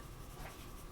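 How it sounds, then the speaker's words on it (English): Pencil strokes on paper while drawing realistic horse hair with colored pencils, a brief close, soft scratchy sketching sound heard alone. "you can see my pencil strokes are sort of up and down, quite sketchy"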